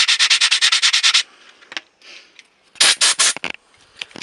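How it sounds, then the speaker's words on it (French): Brake pads being sanded to strip glazed resin from the friction surface: a close, loud run of rapid rhythmic rubbing strokes, a pause with faint handling noises, then another short burst of vigorous sanding. "Je vais poncer que la moitié pour vous faire voir la différence."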